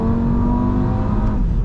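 Tuned 515 bhp Audi RS3 five-cylinder engine pulling hard under acceleration, a loud, continuous rising drone heard from inside the car.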